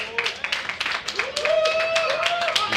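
A poker final table audience claps for player Rohit Jinwal at a high-roller event, a dense patter of hands beneath a presenter's voice that carries on throughout.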